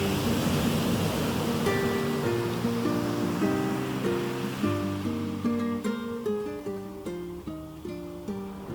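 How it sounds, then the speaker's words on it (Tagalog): Steady surf at a campsite in Zambales, Philippines, washes in a broad hiss, with soft melodic music playing over it as the wave noise slowly eases. "naririnig ang mahinhin na hampas ng alon."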